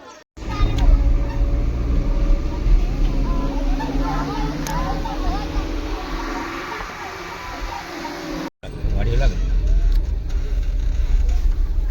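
A vehicle rumbles in and pulls up on a cold morning in a rural Maharashtra village during a school festival, its engine steady and close, while children chatter and someone talks nearby.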